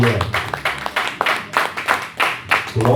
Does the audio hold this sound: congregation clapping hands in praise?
yes